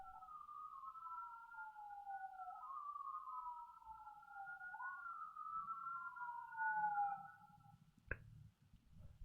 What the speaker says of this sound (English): I'm waiting for an ambulance to go by